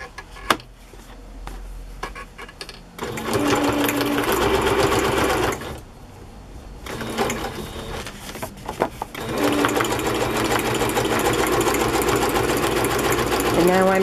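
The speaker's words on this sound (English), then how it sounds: "And now I'm stitching over that cross stitching on the edge." Sewing machine stitching over a cross-stitched border on a decorated journal page, running in long bursts with a pause between, close and steady.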